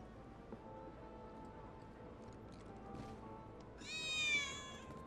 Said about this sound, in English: That was definitely a cat.